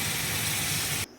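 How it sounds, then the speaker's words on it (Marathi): A steady rush of hot water pouring into a pot of moong dal for about a second, then cuts off abruptly. "व गरम पाणी टाकून"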